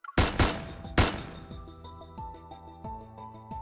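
A burst of gunfire in a visual novel game: several loud, rapid shots up front, then ringing, metallic tones and echoing tails that fade out over a few seconds. No speech.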